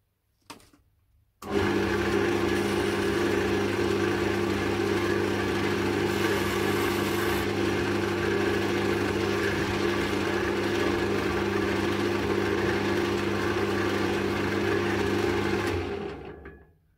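A wood lathe spins while a spindle gouge shapes a wooden trowel handle, giving a loud, steady mechanical hum. It starts abruptly after a brief quiet moment and holds evenly until it fades at the end, with no talking.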